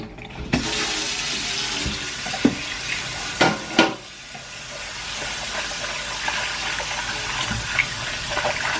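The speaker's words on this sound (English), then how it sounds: "Chucking it back in and rinse it with cold." Running cold tap water splashes continuously over rice noodles in a sink, with a few clinks and knocks of a bowl or strainer partway through.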